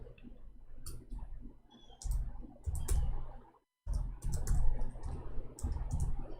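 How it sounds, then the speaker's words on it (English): Rapid clicking of keys on a computer keyboard in bursts, with a brief pause in the middle, fairly close and alone without talk. "We are typing in English, sorry."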